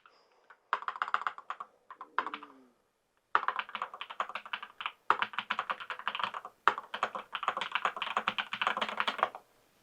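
Typing on a NocFree split wireless keyboard, close up: rapid bursts of key presses in several runs separated by short pauses, with no talking.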